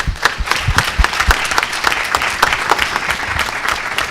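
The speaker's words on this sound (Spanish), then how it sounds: "un aplauso por favor al panel" An audience at the close of a panel discussion claps, with a lively spread of individual hand claps forming fairly close, steady applause that holds for several seconds.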